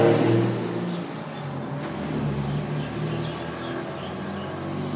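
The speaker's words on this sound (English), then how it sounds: "Have some neighbors with noisy cars." A car engine rumbles past outside, louder at first and then fading to a steady low drone, with faint chirps in the background.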